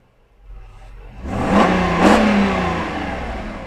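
A Mercedes S500 W140 engine revs up sharply, climbing in pitch twice in quick succession before easing back, loud and close.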